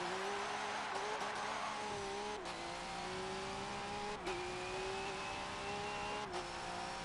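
A Holden V8 Supercar racing at Bathurst in Forza 7 roars continuously at high revs, its engine note stepping through several quick gear changes while faint tire squeal rises beneath the close, loud drone.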